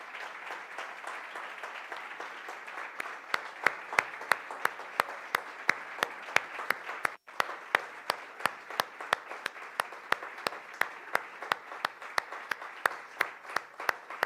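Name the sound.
congregation applause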